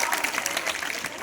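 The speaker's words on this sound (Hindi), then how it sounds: "जोरदार तालियां" Schoolchildren at a government senior secondary school's Hindi Day celebration clap together in a short, dense burst of applause that fills the room.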